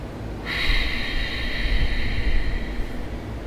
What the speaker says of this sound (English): you're going to close your lips, and you're going to constrict the back of your throat and pretend as if you were fogging up a mirror